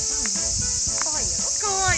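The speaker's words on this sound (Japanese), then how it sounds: "めっちゃセミ鳴いてる。" Cicadas singing in a park on a hot summer day, a loud, constant high drone filling the whole stretch, with faint scattered voices and movement beneath it.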